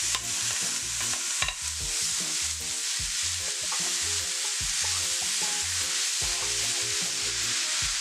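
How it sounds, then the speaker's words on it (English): Ground beef browning in a pan with chopped onion and fresh thyme, frying steadily under a broadband sizzle while a utensil stirs and scrapes in a fairly regular rhythm, close and moderately loud, with no one talking. "I'm going to leave the meat to brown."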